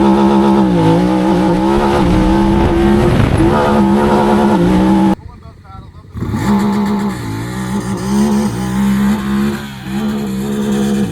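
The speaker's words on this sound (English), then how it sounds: "Hold down launch mode. Pull in both paddles off the brake." A stock 2024 Honda Talon X side-by-side sits in launch mode. Its engine drones loud and close at a held, buzzing pitch, cuts out briefly, then roars back, with a voice over the engine.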